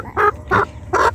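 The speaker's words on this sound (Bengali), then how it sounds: "তো আমাদের খামারে নতুন মুরগি হচ্ছে এই 4টি।" Newly added chickens on a small farm give three short, loud squawking calls close by, evenly spaced about a third of a second apart, with no talking.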